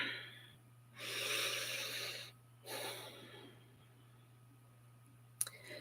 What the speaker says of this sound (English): Take a deep, nourishing breath with me.